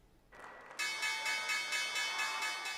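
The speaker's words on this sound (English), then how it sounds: "The opening bell at the New York Stock Exchange." Opening bell at the New York Stock Exchange, a loud electric bell ringing continuously with a steady pulsing rhythm after a brief murmur of crowd noise at the trading floor.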